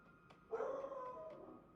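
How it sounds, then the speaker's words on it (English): A single drawn-out dog vocalization, more a whiny howling bark than a sharp yap, rising suddenly and fading over about a second in a quiet room. "That's my dog barking."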